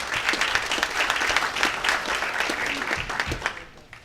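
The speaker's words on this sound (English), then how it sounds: "give him a huge round of applause" An audience at a business community grand opening claps steadily for about three seconds before the applause thins out and fades away.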